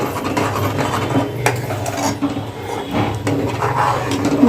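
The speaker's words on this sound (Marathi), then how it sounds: "छान असं हलवूया आता चांगली साखर वितळून घेऊया" A spoon stirs sugar into rice kheer in a metal pot, giving continuous scraping and clinking against the pot over a low background hum.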